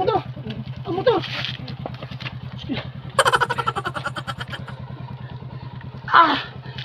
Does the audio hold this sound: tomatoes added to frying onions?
no